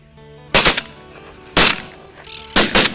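Three loud gunshots go off while hunting wild boars outdoors, each a sharp close blast spaced about a second apart with a short echoing tail, with no talking between them.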